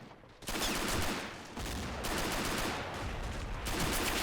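Rapid gunfire crackles in a World War II video game battle with MP40s and grease guns, dense bursts and overlapping shots forming a continuous fusillade, fairly loud, no speech.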